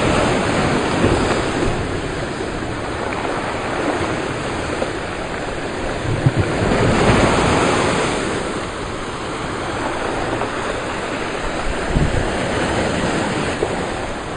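Ocean surf at high tide on Goodrington Sands rolls in as a continuous broad roar with occasional louder swells and crashes, steady and close, with some wind buffeting the microphone.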